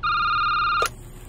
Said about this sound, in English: Oh wow, a phone call.